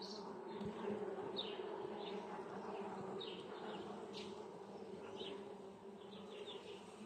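A strong honeybee colony buzzing steadily during a hive inspection one week after splitting, a dense continuous drone with occasional louder bees passing close by, no talk.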